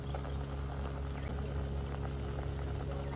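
Crabs boiling in a pot during Jamaican crab season: a dense, constant bubbling roar close up, loud and unbroken, with no voices over it.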